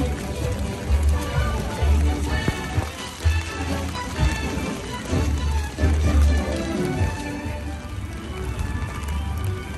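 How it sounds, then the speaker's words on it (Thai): Rain falls steadily at Tokyo Disneyland on a cold, windy day, a continuous hiss with patters and splashes close by, and voices faintly in the background. "ฝนตก"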